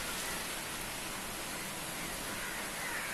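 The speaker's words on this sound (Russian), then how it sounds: "Вот, дождь льет." Heavy rain pours steadily during an ocean storm in Tamil Nadu, India, a dense unbroken hiss that stays even and close throughout, with no voices.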